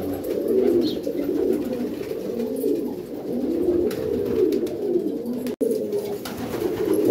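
Several blue pigeons coo in low, rolling throbs, overlapping steadily and close by.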